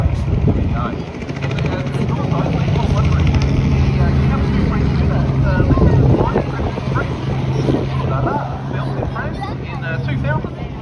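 At an airshow, an aerobatic plane flies a slow low-speed pass at about 100 km/h, its propeller engine a loud, steady drone throughout, with some voices underneath.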